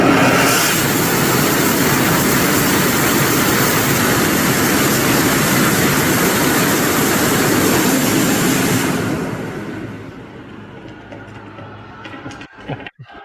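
A student-built rocket motor fires during a launch, a loud, steady, broadband roar lasting about nine seconds before cutting off, followed by quieter background noise with a few faint clicks.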